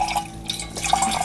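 Water trickling and dripping into a drinking cup in a kitchen, a short steady pour with small splashy drips, close and fairly quiet.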